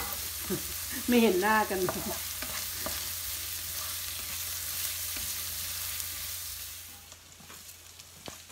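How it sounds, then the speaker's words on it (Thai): Noodles stir-fried in a pan give a steady, close sizzle with the scrape of stirring, while someone talks briefly near the start. "ผัดไปค่ะผัดไป"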